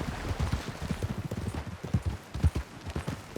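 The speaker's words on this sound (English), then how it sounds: "O cavalo tá indo sozinho" Horse hooves trotting in Red Dead Redemption 2, a quick, steady clip-clop rhythm of many close hoofbeats over ground, fairly loud and alone.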